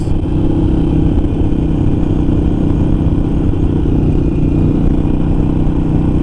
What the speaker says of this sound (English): This is a light, fun bike, the purest form of a Harley